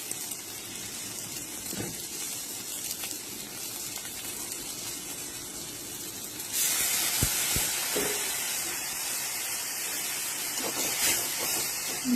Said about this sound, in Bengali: দেব জিরের গুঁড়ো দিয়ে তার মধ্যে একটু জল দিয়ে, যাতে জিরের গুঁড়োটা না পুড়ে যায়